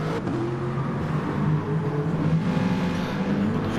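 A Volkswagen Group 4 race car in a racing game, its engine droning steadily as it accelerates along a straight at Bathurst, with a continuous revving hum at moderate level.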